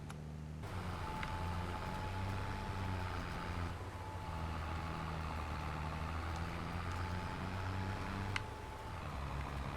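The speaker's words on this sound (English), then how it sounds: "So this tractor is planting away." A John Deere tractor planting a field in Farming Simulator 23, its engine droning steadily and low throughout, with a faint high tone above and a few light clicks.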